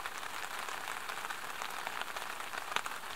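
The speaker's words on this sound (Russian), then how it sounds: "У нас тут гроза и слепой дождь." Steady rain falls during a thunderstorm on a kayak trip in Karelia, a dense, even patter of drops on surfaces with a few sharper taps, close and continuous, with no thunder or voices.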